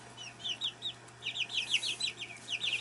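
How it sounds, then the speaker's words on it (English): Rhode Island Red chickens cluck softly and repeatedly in a quick, uneven rhythm, close by, over a low steady hum in a brooder setting. "These are chickens, Rhode Island red chickens."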